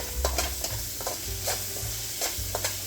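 Fried rice sizzles steadily in a pan on an electric stove, with repeated scraping strokes of stirring heard up close over the constant hiss.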